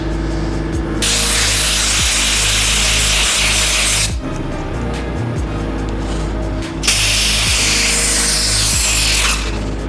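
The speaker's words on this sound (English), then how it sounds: "The best way to get these grips off, air compressor." An air compressor nozzle blasts compressed air under cheap stock handlebar grips on a Honda Grom, giving two long loud hissing bursts separated by a short pause, with a constant compressor hum running beneath.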